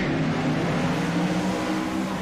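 Open-wheel race cars in the Hoosier Open Wheel Series roar around the track in a continuous loud engine drone with no break.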